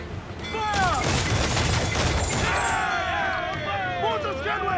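Ship cannons fire during a naval battle in Assassin's Creed IV Black Flag, a loud rolling barrage of blasts and crashes, with voices shouting over the din.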